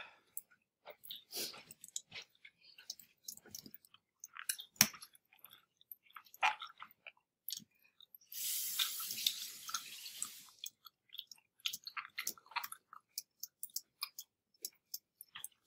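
Crunchy food, eaten with the skin on, being chewed close up in repeated crisp bites and wet smacks, with a denser rustling burst partway through; no talking.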